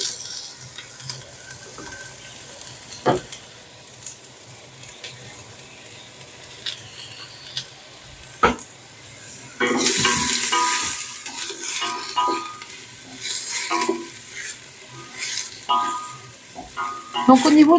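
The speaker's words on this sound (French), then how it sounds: "je vais faire revenir les oignons et l'ail jusqu'à temps que ça soit translucide" Onions and garlic sautéing in olive oil in a pan, a soft sizzle with occasional utensil clinks that swells into louder bursts of crackling and stirring partway through; a voice speaks over parts of it.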